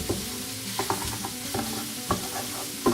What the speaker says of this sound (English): So give your sausage a little browning